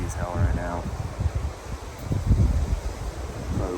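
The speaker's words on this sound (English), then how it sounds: "It's raining like crazy. It's windy as hell right now." Strong wind gusting outdoors during heavy rain in Talkeetna, Alaska, a broad rushing roar buffeting the microphone, with a voice briefly audible at the start and intermittent low thumps.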